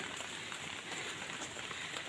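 Steady rain falls in a continuous, even hiss of drops striking surfaces close by, with no pauses and no voices.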